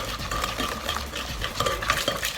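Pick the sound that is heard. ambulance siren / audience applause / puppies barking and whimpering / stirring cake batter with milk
stirring cake batter with milk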